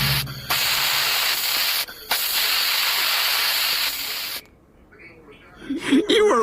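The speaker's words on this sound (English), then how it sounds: "he's got Chris grabbing spray paint cans and vandalizing walls" Spray paint cans hiss loudly in two long bursts with a brief pause between, used to vandalize walls in a cartoon, followed by a short quiet gap and a voice starting to speak.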